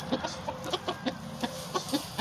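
A chicken clucks in a quick, regular series of about a dozen short, close clucks with no voices.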